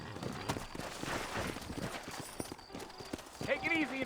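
Horse hooves clip-clop steadily in the Red Dead Redemption video game, a quick rhythmic series of hoofbeats close by under a voice, with a brief high whinny-like sound near the end.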